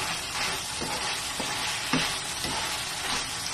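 Beef pigar pigar fries in oil with a steady, crackling sizzle, broken now and then by the soft scrape of stirring.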